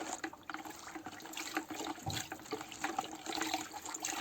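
Copper sulfate solution for a Bordeaux mixture being poured into a container, a steady close splashing and trickling of liquid lasting throughout with no talk.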